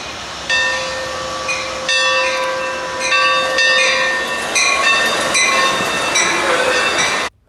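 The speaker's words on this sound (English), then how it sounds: "as this train was about to pass the Santa Fe locomotive, actually started ringing the bell on the Santa Fe" An Amtrak Surfliner train passes a Santa Fe locomotive whose bell rings, giving steady rhythmic tones above loud, continuous wheel and rail noise, with a squeal near the end, close by and without talk.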